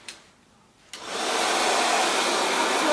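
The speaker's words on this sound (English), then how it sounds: "I'm going to use my Diane blow dryer." A Diane blow dryer clicks on and settles into a steady, close, loud airy whoosh, running into a dryer cap worn over the head after a brief quiet moment.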